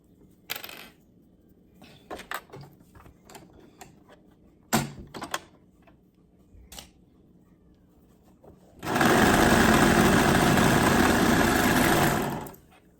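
Serger sewing a fabric seam on a baby bummies garment: scattered taps, clicks and knocks, then a loud, steady high-speed whir of the machine running for about three seconds before stopping.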